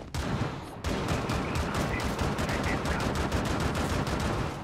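Rapid automatic gunfire in Rainbow Six Siege, a brief pause and then a sustained, dense barrage of close shots rattling steadily for several seconds, no speech.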